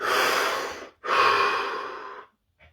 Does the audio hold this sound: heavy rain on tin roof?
no